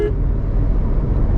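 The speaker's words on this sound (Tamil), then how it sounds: "ஒரு ஹார்ன் பண்ணிக்கலாம்" A car horn sounds during highway driving, set against loud, steady road and engine noise from inside the moving car.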